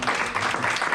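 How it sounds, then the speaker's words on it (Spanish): A church congregation claps together in steady, dense applause, loud and close throughout the second with no break. "Denle un aplauso al Rey."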